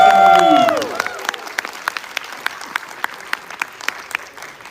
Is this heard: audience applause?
yes